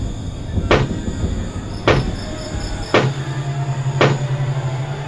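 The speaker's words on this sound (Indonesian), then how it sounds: "tak berselang lama terdengar kembali suara ketukan itu" Four sharp, evenly spaced knocks, about one second apart, sound close and distinct over a low steady hum, used as an eerie effect in a spoken ghost story.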